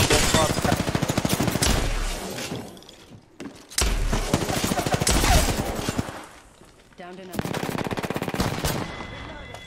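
Loud, close rapid-fire automatic gunfire from an online shooter game comes in long sustained bursts with brief gaps between them, while players talk over the shooting.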